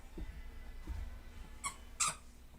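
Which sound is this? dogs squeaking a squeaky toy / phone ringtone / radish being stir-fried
dogs squeaking a squeaky toy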